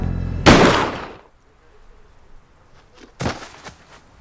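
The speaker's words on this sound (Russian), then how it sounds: "Я ему в спину выстрелил" A gunshot from the animated series Samurai Jack, a single sharp loud blast with a decaying tail, followed about three seconds later by a second pair of shorter cracks.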